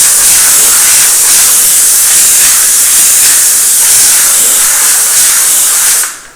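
A steam cleaner hisses loudly and steadily in a kitchen, a close, continuous jet of steam that cuts off abruptly at the end.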